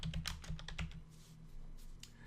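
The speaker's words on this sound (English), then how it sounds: "Just go ahead and type something here." Rapid keystrokes on a computer keyboard, close and fairly quiet, in irregular bursts that thin out toward the end.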